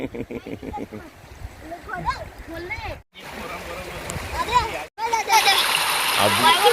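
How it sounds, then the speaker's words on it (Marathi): Repeated splashes as someone jumps into a river pool, loud and close, with excited voices and shouting between the splashes. "पाण्याची सांड आणि त्यामध्ये आधी डुबुक डुबुक डुबुक उड्या मारतोय"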